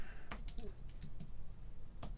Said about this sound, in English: I just might as well start typing it, right?